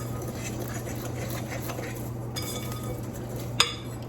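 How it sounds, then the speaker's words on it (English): Dry ingredients are whisked into wet pumpkin snickerdoodle cookie batter in a bowl, a soft continuous scraping and patter of a whisk, with one sharp clink of metal against the bowl near the end. "add a little bit of our dry to our wet. I'm going to whisk it in."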